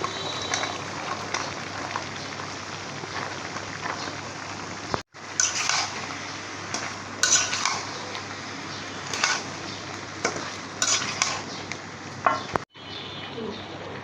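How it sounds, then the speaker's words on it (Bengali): Vegetables go into a pot of browned chicken and are stir-fried with a constant hiss of cooking and scattered clanks of a spoon on the pot, two brief dropouts breaking the sound, no speech. "মাংসটা কষানো হয়ে আমি সবজিগুলো দিয়ে দিই"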